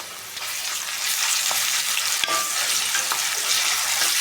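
Cardamom, cinnamon, cloves, onion slices and ginger-garlic paste frying as a tempering for coconut rice: a continuous close sizzle, swelling slightly, with scattered stirring clicks and one sharp tap.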